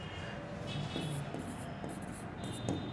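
Marker or chalk writing on a board during a chemistry lesson, a few faint strokes and taps under a low, murmuring voice and background hum.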